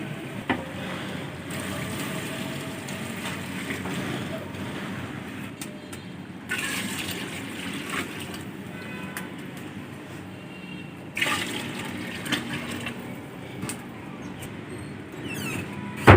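Water pours steadily into a large cooking pot of chicken yakhni pulao, a continuous splashing rush with a couple of brief pauses and clatters.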